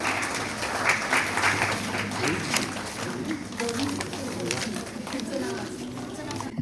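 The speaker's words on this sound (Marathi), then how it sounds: "जुवेरियासाठी सगळ्यांनी जोरदार टाळ्या वाजवायच्या" Audience clapping for a student prize winner at a school annual day, a steady wash of applause mixed with crowd chatter and a voice speaking over it.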